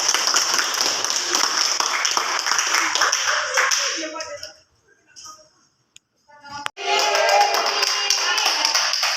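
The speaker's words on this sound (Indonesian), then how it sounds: "Tepuk tangan dulu." Classroom clapping rings out for several seconds, then drops to near silence with a stray tap before a second burst of clapping. Voices mix in.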